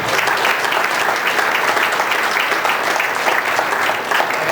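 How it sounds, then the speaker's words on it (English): A comedy club audience at a stand-up show applauds loudly and steadily, a dense, close wash of many hands clapping that holds at full strength throughout. "Give yourselves a round of applause."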